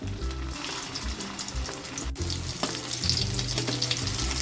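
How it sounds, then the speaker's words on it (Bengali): Koftas fry in oil in a kadai with a steady, fairly loud sizzle and bubbling that runs throughout, along with low intermittent thumps and clatter nearby. "কড়াইতে কোফতাগুলো দিয়ে আমরা ভেজে তুলে নেব"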